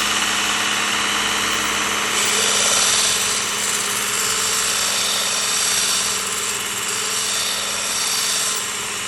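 A Work Sharp powered belt sharpener runs continuously at close range while a curved gut hook blade is sharpened, producing a steady bright grinding whir with slight swells in intensity.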